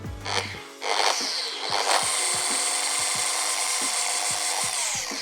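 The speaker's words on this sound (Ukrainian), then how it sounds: "Тобто ви побачили як і ход ексцентрика, так і шліфувальні дії машинки." A 15 mm eccentric orbital polishing machine runs steadily after a short start-up, a loud continuous high whine with a regular low pulsing from the orbit, heard close and alone.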